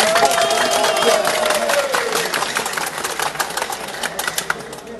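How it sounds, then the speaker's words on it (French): Loud crowd applause for Senator Guy Philippe at a rally, a dense continuous patter of many hands with a voice trailing off at the start, thinning into scattered claps toward the end. "Nous avons demandé un gros applaudissement au sénateur Guy Philippe"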